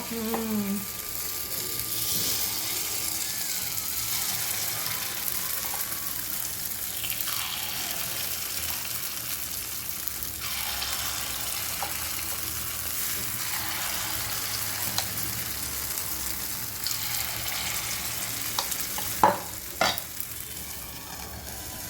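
Rice-and-plantain appam batter cooking on low heat in a pan gives a continuous soft sizzle and bubbling hiss, with occasional scraping and a few sharp clicks near the end.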